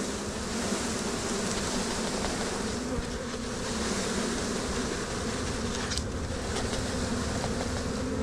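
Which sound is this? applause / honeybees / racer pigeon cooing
honeybees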